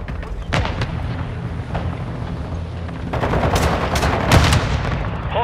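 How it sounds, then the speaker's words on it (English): Incoming mortar strike in Call of Duty: Modern Warfare 2 multiplayer: a busy low rumble of distant blasts and crackling gunfire, with several sharper bursts near the end. "Hostile mortar strike incoming"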